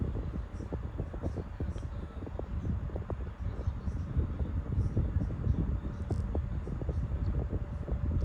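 A 10-inch Opolar desk fan gives a low, continuous motor hum with a steady droning tone and faint whooshing air, quiet and unchanging throughout.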